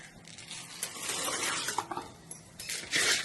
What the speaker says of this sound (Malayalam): നല്ല വെള്ളം തിളച്ച് വന്ന് അതിലേക്ക് നമുക്ക് അരി ഇട്ട് കൊടുക്കാം.